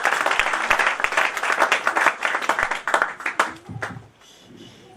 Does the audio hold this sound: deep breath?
no